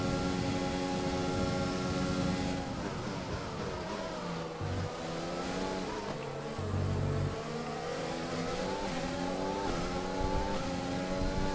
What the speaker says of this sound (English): As Niari's car looks like a bit of a handful going through the fast corner there.